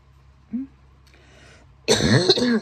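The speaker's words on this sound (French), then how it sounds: "Pardon, je tousse" A small throat noise, then a burst of rough, close coughing that rasps on for nearly a second.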